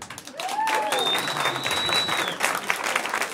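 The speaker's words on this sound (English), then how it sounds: "Round of applause." Audience applause at a stand-up comedy special, a dense, steady round of clapping that holds for a few seconds with a thin whistle rising above it.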